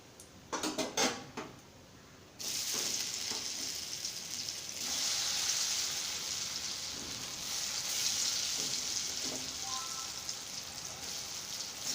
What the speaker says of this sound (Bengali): আমি এইভাবে সবগুলো ভাজা করে নেব